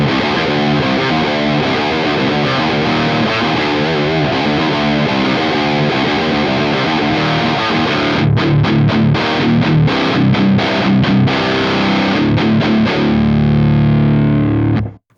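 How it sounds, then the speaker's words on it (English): An electric guitar plays heavily distorted riffs through a 120-watt Revv Generator MK III 10th-anniversary amplifier, loud and sustained, with choppy palm-muted stops near the end before ringing out and cutting off. "Let's switch it over to the big boy, the 120 watt 10-year anniversary Revv generator"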